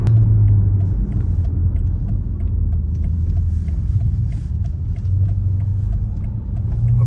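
850hp BMW M5 engine on an open road, a steady loud low rumble with a droning tone that stays even and close throughout, no talk.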